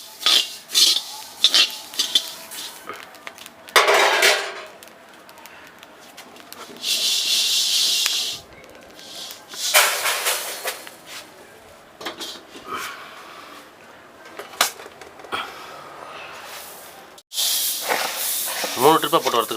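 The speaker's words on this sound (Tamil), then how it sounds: "மூணு ட்ரிப்பாக போட்டு வறுத்துக்கலாம்." Coriander seeds dry roasting in a pan for homemade kuzhambu chili powder, with bursts of scraping, stirring and sizzling hiss alternating with quieter stretches, loud and close throughout.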